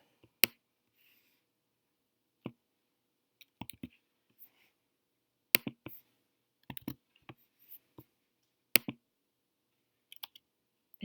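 Keys on a computer keyboard and clicks for copy and paste come as sparse, sharp, close taps in small irregular clusters, separated by near silence.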